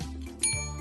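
A bell rung on a live radio show rings once with a bright, sharp ding that lingers briefly, following a short mechanical rattle.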